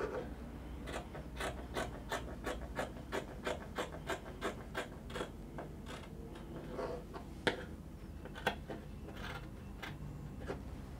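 Fabric for a kimono pencil dress being cut along a pattern line, heard as a steady series of soft, evenly spaced snipping or rasping strokes, close and fairly quiet, with a couple of sharper clicks near the end and no talking.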